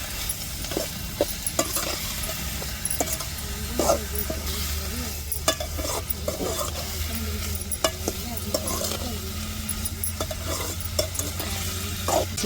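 Garlic stirred and frying in a pan in a home kitchen, a constant low sizzle with a spoon scraping and clinking against the pan at irregular intervals, no talking.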